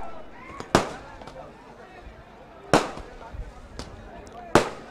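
Sharp firecracker bangs burst out three or four times at irregular intervals, loud and close, over a murmuring crowd in the background, just before the program of a local sports tournament's final match.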